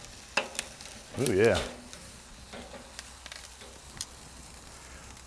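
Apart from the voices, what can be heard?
wagyu ribeye steaks searing on SNS Master Kettle grill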